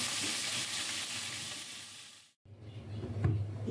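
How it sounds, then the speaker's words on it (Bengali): Fish fries in hot oil with a dense, steady sizzle and crackle close to the pan, briefly cutting out, then resuming with bubbling spits and a faint clink of a utensil. "মাছ ভেজে নিচ্ছি"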